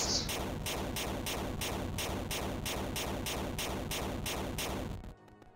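Explosions in the video game Dungeon Souls: a rapid, regular barrage of loud blasts, about a dozen in quick succession, filling the soundscape before cutting off abruptly.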